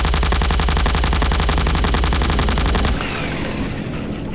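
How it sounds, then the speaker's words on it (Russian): Rapid automatic rifle fire in Garry's Mod rattles in a loud, tightly spaced burst for about three seconds, then stops abruptly, leaving a softer, noisy tail. "Звуки этих автоматов."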